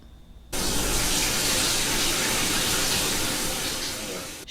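A shower switches on abruptly and runs in a steady, loud hiss of spraying water, continuing unbroken to the end; a voice speaks quietly beneath it.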